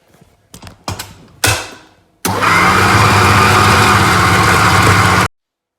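Chocolate Malteser cake batter gets mixed: a few sharp clicks and knocks, then a steady, loud motorized whir runs for about three seconds before cutting off abruptly.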